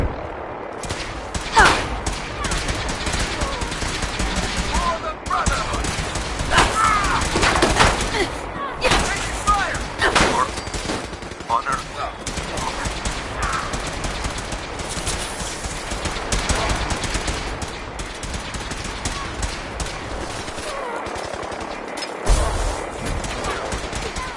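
Continuous gunfire rages in the Fallout 4 video game, dense bursts of rapid shots and heavy blasts layered over one another with barely a pause, loud and chaotic throughout, with game voices mixed in.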